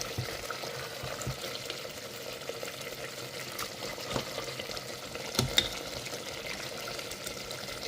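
Lamb lung frying until crispy in a pan, a steady close sizzle with occasional stirring scrapes and small pops throughout, no voices over it.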